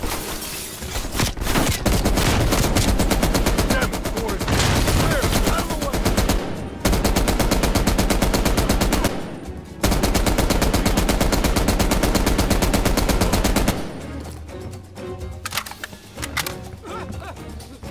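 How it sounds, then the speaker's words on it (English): Call of Duty: Cold War gunfire lays down cover fire in loud, sustained automatic bursts, broken by two short pauses. It then drops to scattered, quieter shots near the end. "There's your cover fire."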